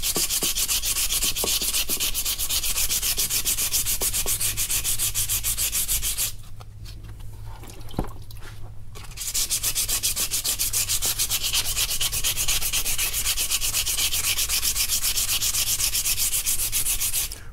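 A car wheel is sanded by hand with 320-grit sandpaper before painting, giving a close, continuous rapid scratching rub with a brief pause midway before the steady strokes resume.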